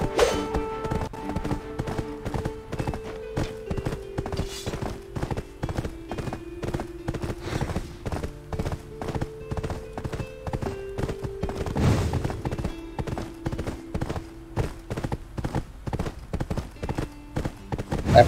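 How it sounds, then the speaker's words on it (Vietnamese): Steady clip-clop of horse hooves while riding into combat in the game Black Desert Online, a continuous rapid rhythm of hoof thuds under a sustained musical drone, with no clear speech. "Tôi đang thử chiến đấu trên ngựa."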